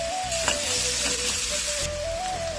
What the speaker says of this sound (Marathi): कांदा नरम होण्यासाठी चांगला परतण्यासाठी